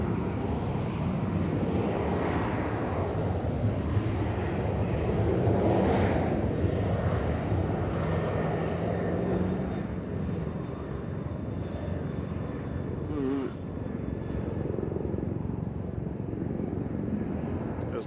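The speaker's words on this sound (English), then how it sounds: "I hear a helicopter. That's what I was filming before. That's a medical helicopter flying over." A medical helicopter passes overhead near Nashville International Airport, a steady broad engine and rotor drone that holds at moderate loudness throughout, with faint wind and background noise and no clear speech.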